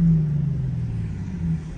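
An Infiniti G37 with a muffler delete drives along, its exhaust producing a low, steady droning rumble heard from inside the car, which swells slightly at the start and end.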